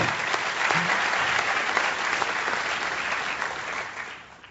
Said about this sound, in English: they deserve the applause